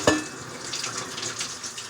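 A kitchen faucet runs while dishes are cleaned during cooking, a steady close splashing hiss that starts with a brief clink and continues evenly, with no talking.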